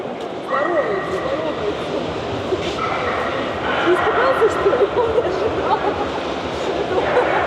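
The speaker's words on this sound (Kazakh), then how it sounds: "Орта Азияның төбеті. Басы деген міне бұқаның басындай. Үлкен ит. Алабай." A large Central Asian shepherd dog, an Alabai, barks and whines among other dogs, with someone talking over the noise and a steady background din.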